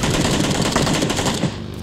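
Automatic gunfire rattles in the shooter game PlayerUnknown's Battlegrounds, a loud rapid burst of shots for nearly two seconds before cutting off.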